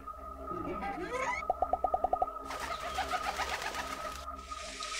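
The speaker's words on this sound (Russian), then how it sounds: "Прилетела птичка." A bird in the video game Sprout coos in a quick run of about eight soft, evenly spaced notes, set over gentle background game ambience.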